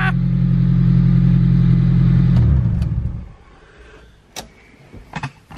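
A worn, cheap Honda Del Sol engine runs at a loud, steady idle for about three seconds, then cuts off, leaving a quieter stretch with a few sharp mechanical clicks and knocks.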